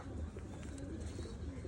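A ringed pigeon with red-dyed markings cooing nearby, a low rolling murmur against a dense, noisy background.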